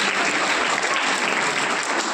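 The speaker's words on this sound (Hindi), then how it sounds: "एक बार जोर से तालियां बजाओ।" School science exhibition audience applauding a chief guest, dense continuous clapping from a crowd, loud and even throughout with no talk over it.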